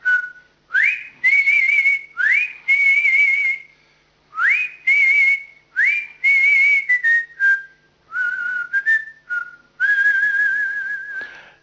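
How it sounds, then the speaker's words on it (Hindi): A whistling artist whistles a lively tune alone, clear and close, in phrases of rising slides and sustained and wavering pure notes separated by short pauses. "सीटी बजाना भी एक कला है"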